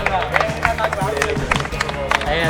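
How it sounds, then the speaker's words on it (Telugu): A group claps at a Portland State University graduation party with champagne and cake, giving steady, close hand-clapping mixed with lively chatter and crowd noise. "చప్పట్లు కొట్టండి."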